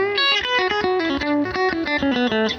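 An electric guitar played through an Electro Harmonix Nano Soul Preacher compressor/sustainer rings out a quick run of notes, each held long and even, loud and close with no talk.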